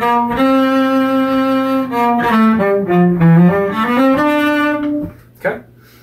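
Cello playing a run from Bréval's Sonata in C on an up bow: a long held note moves into a quick stepwise passage and settles on a sustained tone, close and clear, ending with a short noisy sound.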